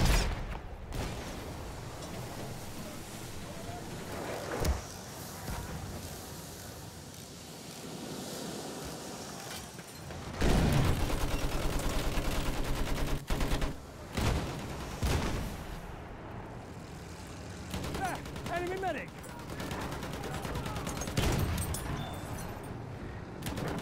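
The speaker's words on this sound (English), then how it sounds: "Enemy machine gun over there!" Enemy machine gun firing in Battlefield 1 at the River Somme, distant bursts and rumbling battle noise amid wind-like ambience, fairly faint and mixed with explosions.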